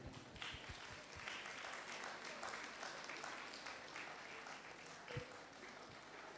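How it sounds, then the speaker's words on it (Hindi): An audience at a Catholic archdiocese youth programme claps steadily to welcome the fathers and sisters, a faint, even patter of many hands heard from a distance. "आइए हम अपने तालियों की गड़गड़ाहट से उनका स्वागत करें।"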